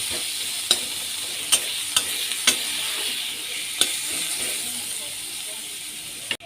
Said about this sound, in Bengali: দিয়ে পেঁয়াজটা হালকা ভেজে নেব।